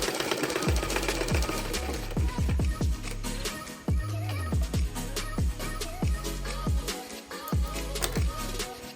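Short bursts of a sewing machine stitching, close and steady with brief stops between runs, while the machine has a stitching fault traced to the bobbin case.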